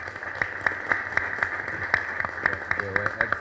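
A conference audience at an AERC regional integration session applauds the speaker and discussant, with scattered, moderately paced clapping filling the room at a steady volume.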